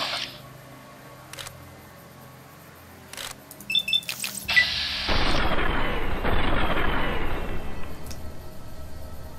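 Gunfire in a game set in the Mojave Wasteland, a few sharp clicks and pops followed by a loud sustained barrage of shots and blasts that gradually eases off.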